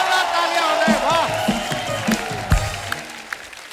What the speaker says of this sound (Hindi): जोरदार तालियां हो जाए